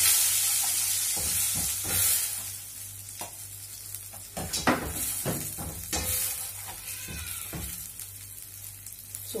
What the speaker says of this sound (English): then we have to start with the frying of our mixed pepper